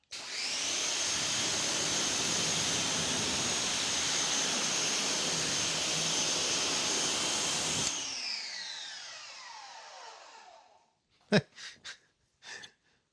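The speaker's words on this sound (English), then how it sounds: "Let's see how quickly we can get this hood rinsed off." High-flow pressure washer with a 40-degree fan nozzle rinsing a car hood, a loud steady hissing roar of spray that lasts about eight seconds, then fades and winds down, followed by a few brief breaths or voice sounds.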